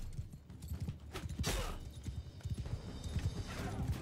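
Horses gallop into battle in the video game Mount & Blade II Bannerlord, a rapid run of hoofbeats with a whinny partway through, set against the low rumble of combat at moderate loudness.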